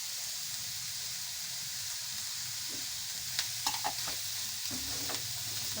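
Chicken egg roll filling fries in a pan with black salt, red chili powder, black pepper and salt, a soft continuous sizzle with a few light stirring clicks and scrapes near the end.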